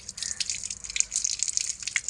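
Water dripping from a football being checked for leaks, a quick run of small patters and drips close by with no voices.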